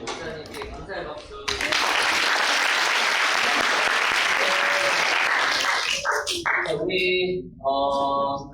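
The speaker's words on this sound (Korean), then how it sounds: "귀한 말씀 전해주신 목사님께 감사의 박수." Congregation applauding the pastor at an autumn church retreat opening service, a loud, dense burst of clapping that starts abruptly and carries on for several seconds, with a few voices and other noises breaking through as it ends.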